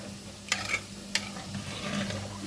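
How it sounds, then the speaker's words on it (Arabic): Cream and salt stirred by hand into a tray of potatoes and meat, with a few sharp utensil scrapes over a soft wet background hiss. "كده هقلب بس ايه عشان الملح اهو"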